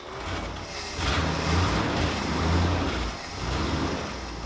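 An old barn-find car engine starting up after decades of sitting, a rough, heavy engine rumble that surges and dips in loudness across a few seconds, close by.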